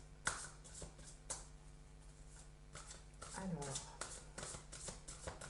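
Tarot cards shuffled for a guidance card draw, a series of brisk papery riffles and snaps repeating through the moment, close and moderately loud, with someone speaking French over them.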